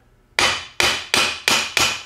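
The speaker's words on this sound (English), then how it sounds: "I should be able to just tap it with a hammer on the side" Five sharp, evenly spaced hammer blows ring out up close, tapping a glued Tremec TKO 5-speed transmission cover to break the sealant loose, each strike with a bright metallic ring.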